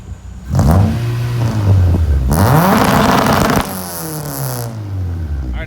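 A car at a meet revs repeatedly on 2-step launch control, loud and close, with sharp rising engine sweeps, one long held burst, and crackling pops between the revs.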